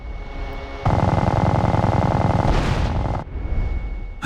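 Bombs from fast enemy aircraft exploding at night in the GTA San Andreas mission "Supply Lines", a loud sustained roar of blasts and rumbling fire that swells, peaks, then breaks off into a rougher tail.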